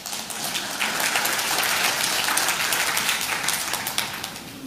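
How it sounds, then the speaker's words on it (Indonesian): Church congregation applauding after a sermon line, a dense hiss of many hands that swells in, holds steady and tapers slightly, with no talking over it. "Tepuk tangan kek."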